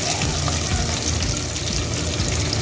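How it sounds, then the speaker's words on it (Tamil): Two large chopped onions fry in a pan, giving a loud, dense, unbroken sizzle with a watery crackle, close up and steady, with nobody speaking. "வெங்காயம் வந்து நல்லா வதங்கணும்"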